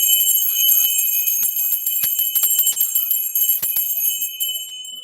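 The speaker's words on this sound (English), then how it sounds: "I gotta ring the bell." A bell rung by hand, giving a bright, ringing metallic tone struck again and again in quick, uneven strikes, loud and close with a sustained shimmer between hits.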